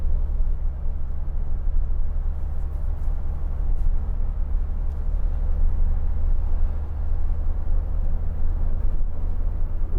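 A 2014 Renault Trafic 2.0 dCi LL29 Sport van accelerating to overtake, with a steady low diesel drone and road rumble heard from inside the cabin, loud and continuous throughout.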